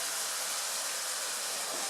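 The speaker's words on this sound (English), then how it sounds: "And then we pour that into the onions." Deglazed pan juices pour and sizzle over onions for a lamb tagine, a continuous bright hiss that holds steady and close without any talk.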